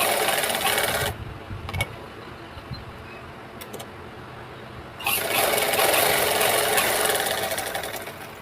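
A sewing machine stitches a blouse lining to the main cloth in two bursts of fast, steady whirring. The first lasts about a second and the second runs three seconds, with a quieter pause of fabric handling between them.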